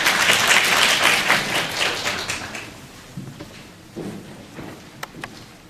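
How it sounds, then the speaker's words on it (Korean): Audience applause at a 2013 architecture and urban planning forum, strong for the first few seconds, then quickly thinning into scattered claps and quiet room noise. "박수 부탁드립니다."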